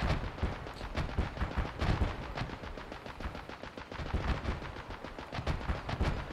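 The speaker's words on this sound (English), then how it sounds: "Explosions everywhere." Explosions and gunfire in the video game Escape from Tarkov: rapid bursts of automatic fire and heavy booms rattle on continuously, dense and distant-sounding, with no talking.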